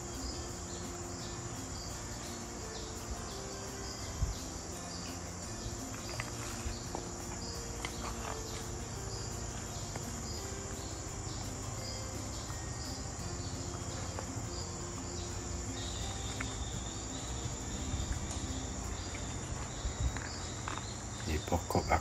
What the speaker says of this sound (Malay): Cengkerik, ini cengkerik juga menghiburkan.